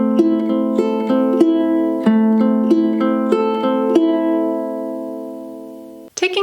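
Ukulele fingerpicking for a song played at song tempo, a steady stream of bright plucked notes over sustained chords, close and alone, ending with a brief handling noise.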